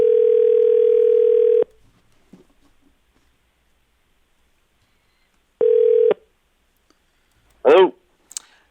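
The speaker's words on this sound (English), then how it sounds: "Phone system is capable of interpreting 20 pulses per second." A steady telephone dial tone on a conference call line plays loudly for over a second, cuts off, returns briefly a few seconds later, followed by short clicks and a brief warbling electronic burst.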